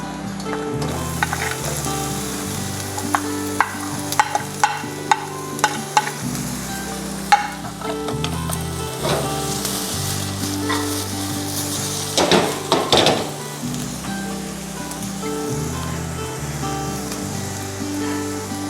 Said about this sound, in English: continue sauteing it until it's soft and translucent